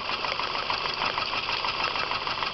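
Car engine idling during a misfire test with one spark plug lead removed, a steady, slightly uneven mechanical hum and rattle running continuously and fairly loud, with no talking.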